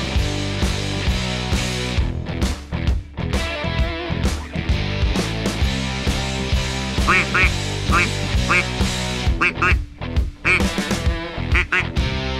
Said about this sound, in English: There's still a good number of ducks around in the air